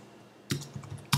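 Two short bursts of keyboard typing as text is entered into a card-design program, each a quick cluster of close, crisp key clicks separated by a brief pause.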